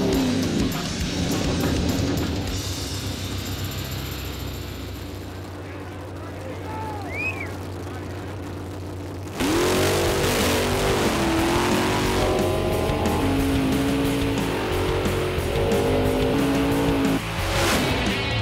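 Race cars accelerating in a drag race at a televised race event: loud, steady engine roar sweeps upward in pitch as the cars launch, mixed with crowd and track ambience.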